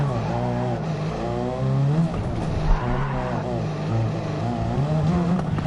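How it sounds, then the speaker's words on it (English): Race car in Gran Turismo 7 on the Tokyo Expressway, its engine rising and falling through gears with tire squeal from wheel spin, then a brief crash thump; loud and continuous. "had a little bit of wheel spin in the turn, so I crashed"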